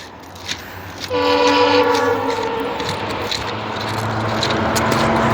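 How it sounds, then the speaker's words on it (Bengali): A train passing close by sounds a loud, sustained horn that starts abruptly and holds for several seconds over the rumble and clatter of the rail cars. "ট্রেন আয়া পড়ছে আবার"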